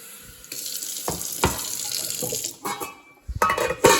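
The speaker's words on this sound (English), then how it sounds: "I add enough water" Water pours from a tap into a pot being filled to boil spaghetti for a grilled meal, a steady close rush broken by a few clunks and splashes that grow louder near the end.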